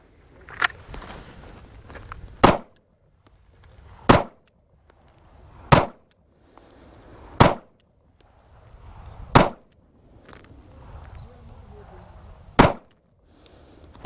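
Pistol shots crack loudly one at a time, roughly every second and a half to two seconds, during a Bill Drill on a shooting range, with faint movement and rustling between the shots.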